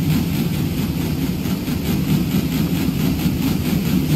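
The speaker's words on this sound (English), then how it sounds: "Another biplane flew past." A propeller biplane in the Duke Nukem 3D 20th Anniversary Edition, Red Light District level, drones steadily with a heavy low engine hum that stays loud and even throughout, with no voices.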